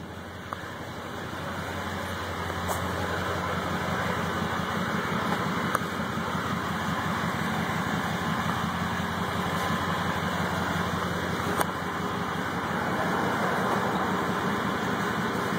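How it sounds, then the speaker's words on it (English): A car engine idles steadily with a low, continuous rumble throughout, fairly loud and close, with no talking. "My loud engine"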